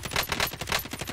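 Video game gunfire comes as a fast, rhythmic burst of automatic shots, close and moderately loud, over about a second.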